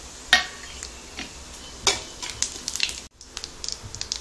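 Cumin, cardamom, cinnamon and bay leaf sizzling in hot oil in a pan while cooking mushroom gravy, a soft continuous crackle with a few sharp clinks of a utensil against the pan.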